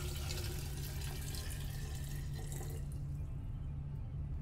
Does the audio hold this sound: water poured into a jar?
yes